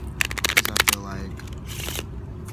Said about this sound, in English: Okay, I'm gonna shuffle it one more time, and then I'm gonna lay some cards out